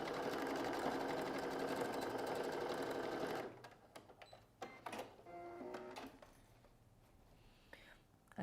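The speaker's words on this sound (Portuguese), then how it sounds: "Então a gente vai dar essa dobradinha aqui e vai costurar." Sewing machine stitching a fold on a backpack-style bag, running steadily and loudly for a few seconds, then stopping into quieter handling clicks and rustles.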